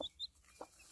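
Desi hen chicks peeping and a hen clucking, with a few faint, brief chirps and clucks close by in a quiet setting.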